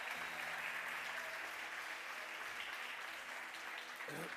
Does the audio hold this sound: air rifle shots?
no